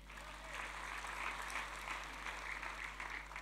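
A church congregation at a Sunday worship service in Indonesia claps together in steady, continuous applause, moderately distant, over a low electrical hum.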